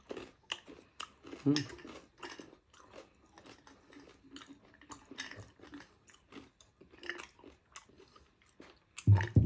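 Peanuts are chewed close up, with crunchy bites and moist chewing repeating irregularly throughout and brief bits of speech between.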